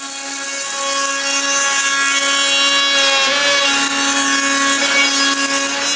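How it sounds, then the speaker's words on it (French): A router fitted with a grooving bit cuts a groove into wooden frames, a loud, steady high whine with strong tonal harmonics that dips slightly in pitch midway as it bites into the wood. "avec une mèche à rainurée, je fais une rainure à l'intérieur des deux cadres"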